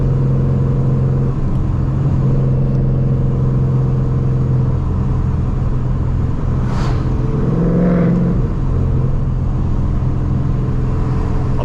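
A Vortech supercharged Ford Mustang drives on the street, its engine droning loud and steady from inside the car, with a brief rise in revs partway through.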